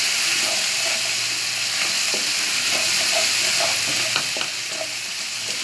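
Onions and garlic-ginger paste frying lightly in a pan for vegetable pasta, a steady close sizzle with soft stirring scrapes and small pops throughout, no voices.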